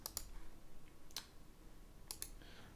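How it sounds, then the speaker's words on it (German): A computer mouse clicking a refresh button on a trading screen: a few sharp, quiet clicks, some in quick pairs, spaced through a near-silent room. "Klicken wieder auf Refresh."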